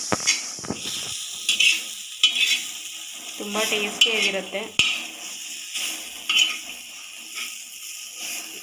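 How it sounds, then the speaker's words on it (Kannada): Fried bitter gourd being stirred in a pan, with a spoon scraping and clinking against the metal over a soft sizzle in irregular strokes, while someone speaks briefly. "ಇವಾಗ ಮಿಕ್ಸ್ ಮಾಡ್ಕೊಂಬಿಡೋಣ ಫ್ರೆಂಡ್ಸ್"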